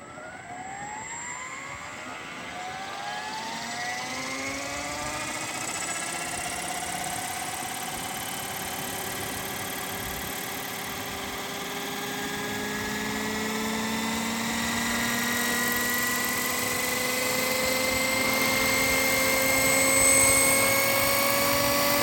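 A Funkey Bell 206 550-size scale RC helicopter spools up close by, its whine and rotor tones rising steadily over about twenty seconds into a sustained, building drone.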